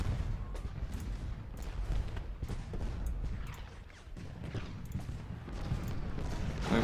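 Battle gunfire from Ultimate General: Gettysburg rolls on in scattered volleys of faint distant musket shots over a low rumble, with a few thuds that sound like hooves.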